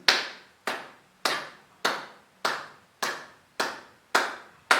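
Hands clap at a steady crotchet pace, eight crisp, evenly spaced claps about 0.6 seconds apart, close and clear, each decaying quickly into silence, with no talking.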